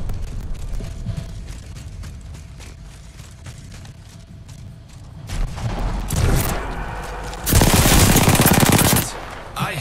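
Gunfire in the game Apex Legends: quiet ticking at first, then loud bursts of rapid automatic fire and a long sustained volley near the end, close and dominant over the game noise.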